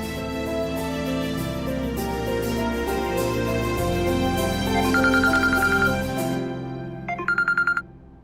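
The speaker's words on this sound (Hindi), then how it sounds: "दादी का फोन आ रहा है जगराते के लिए" A phone rings with an incoming call from a grandmother, a few bright repeated electronic tones near the end that stand out over a background of music.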